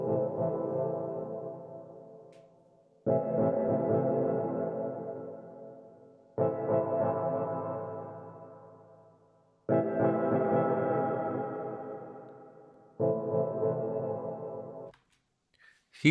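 A dub techno chord stab rings out five times, each struck hit swelling and slowly decaying into a soft reverberant tail before the next, spaced a few seconds apart with no voices.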